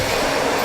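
Blow dryer runs on hair during a styling session with a round brush, a loud steady airy whoosh through the whole short moment.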